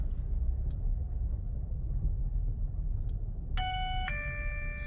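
A two-tone electronic chime from a motion detector receiver rings out inside a truck over a low engine rumble, bright and close, sounding just like a doorbell.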